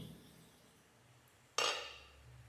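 A metal lid comes off a pot of thor chhechki, a village-style banana stem dish, with a single sharp clank followed by a fading metallic ring and faint stirring scrape, alone in a quiet kitchen.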